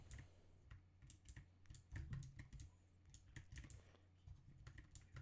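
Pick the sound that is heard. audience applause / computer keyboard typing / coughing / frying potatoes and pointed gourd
computer keyboard typing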